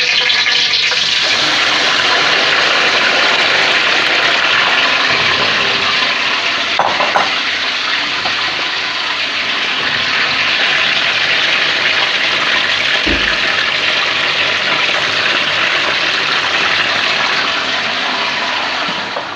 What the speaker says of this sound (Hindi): तेल गर्म हो जाए तो फिर हम इसके अंदर टमाटर डालेंगे